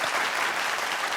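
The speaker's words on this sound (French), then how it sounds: "Applaudir très fort." Short burst of audience applause in a sports talk show studio, a dense, even patter of many hands clapping for just over a second.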